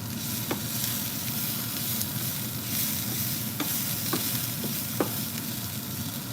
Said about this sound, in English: I'm gonna just stir this around so everywhere gets some of the salt and pepper